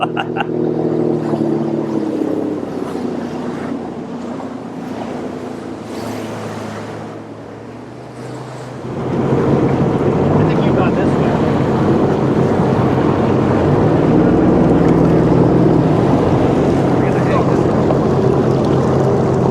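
A motorboat runs steadily out on the water, its engine a continuous, fairly loud drone mixed with rushing wind buffeting the microphone. The sound steps up and grows fuller partway through.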